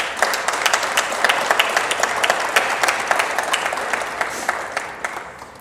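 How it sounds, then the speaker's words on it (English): Sustained audience applause at a Bowling Green athletics Hall of Fame induction ceremony, a dense wash of many hands clapping steadily for several seconds with no talk over it. "Could you give them a round of applause?"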